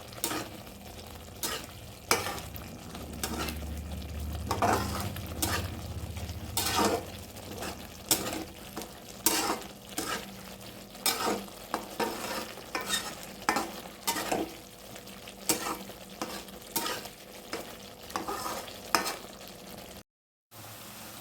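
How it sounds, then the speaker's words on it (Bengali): Masala being stir-fried in oil until the oil separates gives a steady low sizzle, broken by repeated rhythmic scrapes and clacks of a spatula against the pan. The sizzle carries on alone, with no voices. "এবার এটাকে ভালো করে নেড়ে যতক্ষণ তেল না ছেড়ে আসছে ততক্ষণ এটাকে কষতে হবে"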